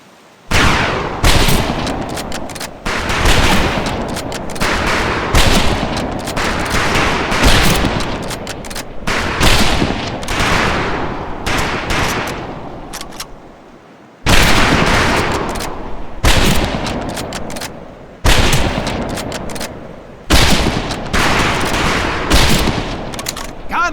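Rifle volleys crack across a shooting range in the Medal of Honor Pacific Assault video game, loud and close, arriving as repeated salvos of overlapping shots separated by brief gaps.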